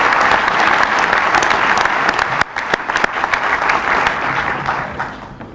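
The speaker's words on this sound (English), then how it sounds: "how about another round of applause for Allison and Haley" A crowd claps steadily at a high school graduation ceremony for the class of 2014, a full, continuous round of applause for the two national anthem singers, dipping briefly midway and tapering at the end.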